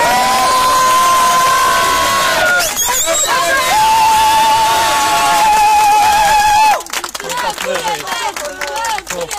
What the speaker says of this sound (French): Allez, on applaudit Laurent Louis, allez!